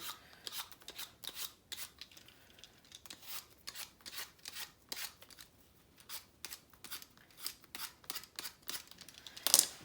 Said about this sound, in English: You can use a peeler to get the skin off.